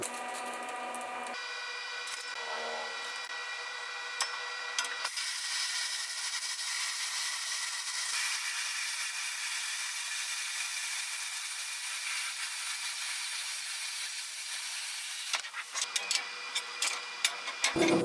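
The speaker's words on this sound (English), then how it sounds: "make one cut with the plasma cutter" A plasma cutter slices through steel strips for a MIG-welded fireplace grate, a steady loud hissing rush that carries on for about ten seconds before cutting off, followed by a few clicks.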